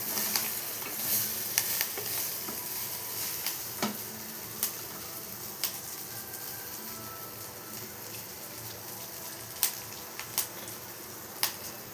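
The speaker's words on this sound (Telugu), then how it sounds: "మధ్యలో మనం ఒకసారి మూత తీసి ఈ దాన్నంతా కూడా ఒకసారి కలుపుకోవాలండి" Ridge gourd chutney mixture cooking in oil gives a soft, steady sizzle, with scattered clicks and scrapes from a spoon stirring it in the pan, close up and with no talking.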